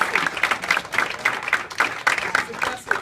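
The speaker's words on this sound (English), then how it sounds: "let's give her a round of applause" A live audience at a Los Angeles business gathering breaks into sustained applause, with dense steady clapping filling the room for the full stretch and rising and falling slightly in strength.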